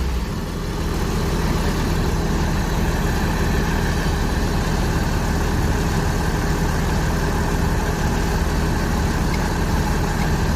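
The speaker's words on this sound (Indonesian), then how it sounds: "Mesinnya kan masih enak kan dengarnya, garing, masih halus, sangat terawat mesinnya." A well-maintained Lorena bus diesel engine idles steadily and close, a dense, even rumble with a faint rattle, running continuously without talk.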